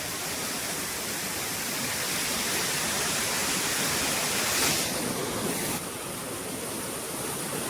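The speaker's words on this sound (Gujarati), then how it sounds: "તો મિત્રો તમને હું અહીંનું ઝરણું બતાવું" A hillside waterfall stream near Patan rushes steadily, a loud, continuous broadband roar of falling water that stays even throughout, with no voices.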